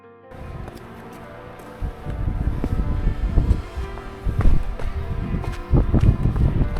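Strong gusting wind on a hillside trail near a rope bridge in Italy buffets the microphone with rough low rumbles, rising and falling in loud surges over several seconds; no voices.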